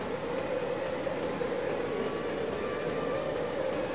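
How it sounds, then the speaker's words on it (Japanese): A steady siren wails through a flooded underground area in the disaster game Zettai Zetsumei Toshi 2, holding a constant tone over a loud, continuous rumbling drone with no speech. "このサイレンがすごい気になるんだけど、"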